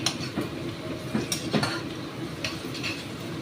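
Onion with asafoetida and ginger paste stirred in a pan, a spoon scraping and clinking against metal in quick irregular strokes over a soft background sizzle.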